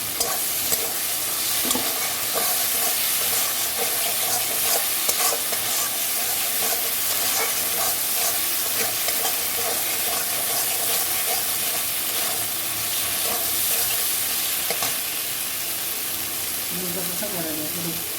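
Fried potatoes are stirred into a sizzling spice paste for a chital fish kalia, with a constant loud frying hiss and the scrape of a spoon moving through the pan throughout.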